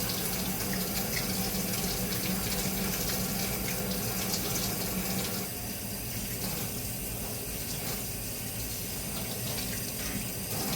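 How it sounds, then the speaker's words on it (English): Steady running water pours from a kitchen tap as hands are washed beneath it, a continuous close splashing hiss that carries on without a break for the whole stretch, with no voices. "make sure that you wash your hands thoroughly"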